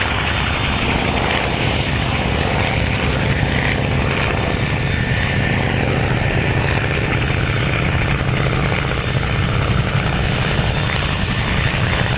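An Avro Anson Mk.1 propeller aircraft drones steadily and loudly overhead at an airshow, its engine roar continuous and unbroken with no voices.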